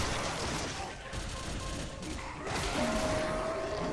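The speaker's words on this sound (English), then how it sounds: "There's two people shooting at me." Rapid gunfire from enemies in the video game Shadows of the Damned, loud and continuous bursts filling the whole stretch with dense crackling shots and no pause.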